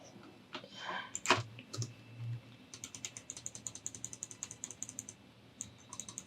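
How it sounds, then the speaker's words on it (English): Rapid mouse clicks fire shots in a Java 2D zombie game, a quick, even train of sharp clicks following a few louder thumps, close and clear with no talking. "You can hear how much I'm clicking"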